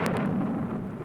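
Thunder rumbling through a forest storm, a sound effect from a children's story record: a loud, low, continuous roll of thunder that fills the short moment without any talk.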